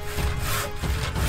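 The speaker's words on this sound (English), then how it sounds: "A wood saw." A hand saw cuts through wood in rough rasping strokes, two or three back-and-forth passes heard close and fairly loud with nothing else over them.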